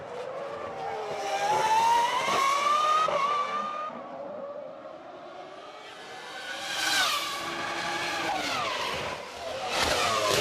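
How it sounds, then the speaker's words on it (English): A McLaren Formula 1 car at the 2001 Monaco Grand Prix accelerates out of the pit lane with a high, rising engine scream through several gear changes, loud and close, over a crowd and track background. "the McLaren accelerates back"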